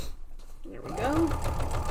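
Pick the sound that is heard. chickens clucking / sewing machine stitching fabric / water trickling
sewing machine stitching fabric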